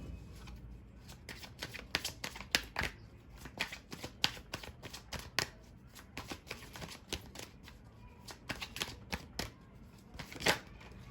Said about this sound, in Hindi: चलिए मैं कुछ और कार्ड्स लूंगी